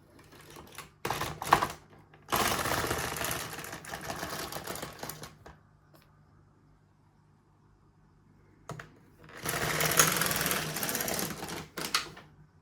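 An LK150 knitting machine carriage is pushed across the bed knitting a fair isle row, making two long clattering, whirring mechanical passes separated by quiet, with a few sharp clicks between them and no talk.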